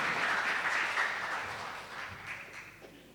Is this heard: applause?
yes